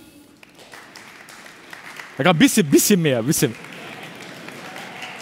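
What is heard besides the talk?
audience clapping test at a science slam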